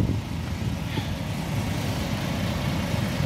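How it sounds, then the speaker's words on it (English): A Euro 6 DAF MX-11 diesel engine with a ZF Ecolife automatic gearbox idles in a bus, giving a steady, close, low rumble that holds evenly throughout. "Under the bonnet, Euro 6 DAF MX-11 engine driven through a ZF Ecolife fully automatic gearbox."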